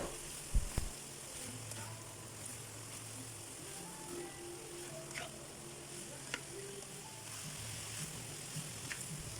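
Carrots and pickled turnip fry gently over reduced heat in a pan, a faint steady sizzle with a few small knocks at the start and occasional light clinks, quiet and distant.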